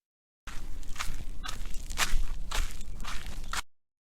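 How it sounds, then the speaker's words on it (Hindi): Dragging footsteps as a sound effect: a few slow, gritty scrapes and shuffles of feet across a rough floor, close and fairly loud, with no voices. "अचानक उसे पीछे से किसी के पैर घिसटने की आवाज सुनाई दी"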